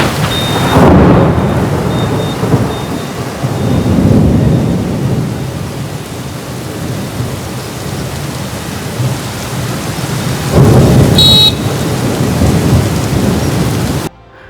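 Heavy torrential rain pours down steadily while deep thunder rumbles roll in twice, loud and close, with no voices.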